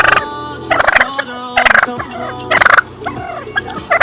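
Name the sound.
turkeys gobbling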